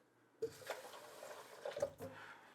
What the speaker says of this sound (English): Let me just put some more water here pretty quick